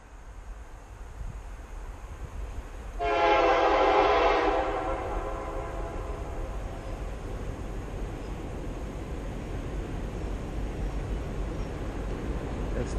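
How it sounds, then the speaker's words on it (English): A train horn sounds once, loud and close, for about two seconds beside a $5-a-night campsite in Hampton, Oregon, then fades into a steady rumbling pass under wind noise. "when the trains go by it's going to be really loud"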